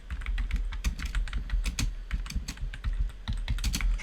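Rapid typing on a computer keyboard, a steady stream of close, crisp key clicks with no talking.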